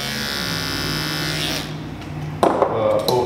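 An electric hair clipper fitted with a detachable 000 blade buzzes steadily during a barber's wave haircut, then gives way to brief, louder scraping and clicking near the end.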